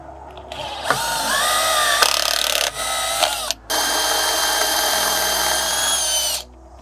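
A power drill bores a hole into an aluminum handrail with a loud, steady high whine, breaking off briefly twice before one long sustained run that then stops.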